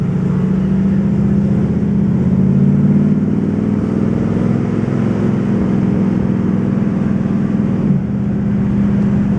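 A 1955 Ford Crown Victoria engine drones loudly from inside the car, rising in pitch as it accelerates, then dipping briefly at a gear change before pulling again.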